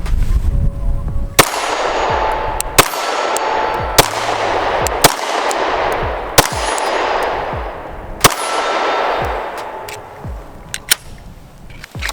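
Single shots ring out one at a time from a Glock 43 pistol at a shooting range, about eight loud sharp reports at irregular intervals, each trailing into a long metallic, echoing decay.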